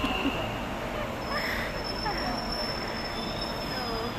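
An Ahmedabad metro train pulls into a station with a steady, loud rumble and a thin high wheel squeal running throughout, while voices are faintly mixed in.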